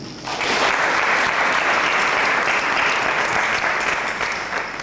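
An audience at a 2008 conference at UNIKIN applauds a professor who specialises in religion. The clapping is dense and sustained, rising almost at once and holding loud and even for several seconds before easing slightly.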